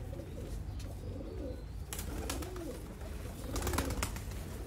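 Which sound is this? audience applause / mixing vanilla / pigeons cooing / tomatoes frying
pigeons cooing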